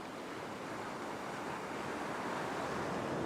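Ocean surf breaking on a sandy beach near a sandbar, a steady broad wash of waves with wind noise on the microphone, continuous and fairly loud with no talking.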